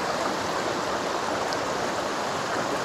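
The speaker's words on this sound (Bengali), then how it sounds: "দেখুন জল একদম খলখল করে বয়ে যাচ্ছে।" River water babbles and rushes under a bridge below hills at Tabakoshi near Mirik, a steady, full hiss of flowing water with no breaks and no voices.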